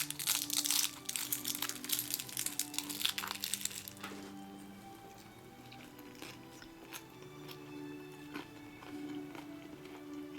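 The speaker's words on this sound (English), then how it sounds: "You hear the crunch?" Crisp, crackly crunching from close bites of a fried spring roll for a few seconds, then quieter chewing with faint clicks.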